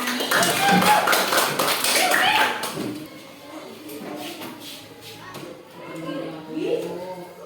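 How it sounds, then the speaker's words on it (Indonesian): Children in an elementary school classroom clap their hands in a dense, loud round for about three seconds, then the room settles into softer shuffling and voices. "Tepuk tangan dulu buat Nana."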